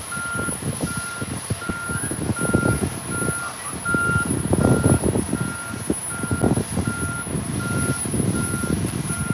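Reversing beeps from a truck at the SpaceX Starbase launch site in Boca Chica, Texas, repeat at a steady rhythm, moderately distant, over a busy layer of engine rumble and site clatter.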